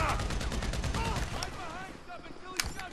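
Rapid gunfire in the video game Grand Theft Auto V during an army shootout, a dense burst of automatic shots at the start thinning to scattered pops and a sharp blast, with a voice talking over it.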